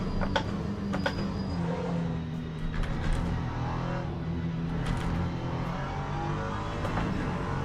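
Muffled race car engine in the sim racing game Le Mans Ultimate, a steady low drone with a dull, damped tone that runs continuously and fairly loud, with brief higher clicks scattered over it.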